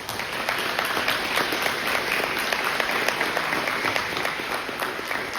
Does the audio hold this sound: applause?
yes